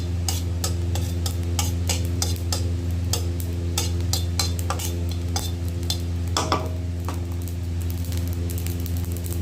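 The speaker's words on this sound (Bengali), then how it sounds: "জিরেটা কিন্তু ফুটতেছে দেখছেন" Cumin seeds spluttering and popping in hot oil in a pan, the first step of a bitter gourd (korolla) fry: a steady run of sharp crackles and pops, close and fairly loud, over a constant low hum.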